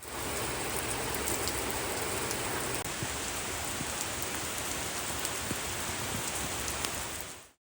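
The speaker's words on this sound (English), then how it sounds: "it looks like I'm starting to get rained on here." Steady rain falls across a backyard garden of raised beds and pots, a dense, even hiss of drops on surfaces that holds constant for several seconds, close and enveloping, with no voices.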